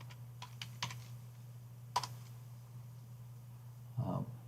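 Typing on a computer keyboard in a quiet room: a few sparse key clicks and taps over a low steady hum, with a short muffled thud near the end.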